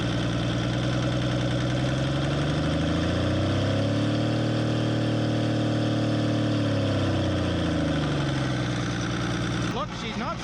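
A 1975 Chevy pickup's Isuzu diesel engine, running again after 32 years, chugs close and loud, its pitch climbing as the revs rise briefly midway, then settling back to a steady idle.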